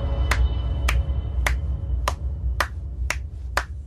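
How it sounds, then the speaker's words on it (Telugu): In a movie scene, a single pair of hands claps slowly and deliberately seven times at a steady pace, each clap sharp and close over a low background rumble. "చప్పట్లు కొట్టుండ్రా."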